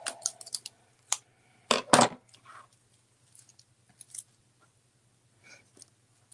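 Scissors snip wine cork craft pieces in a quiet room, a few sharp close cuts and clicks, one louder double snip near the middle, then scattered faint handling sounds.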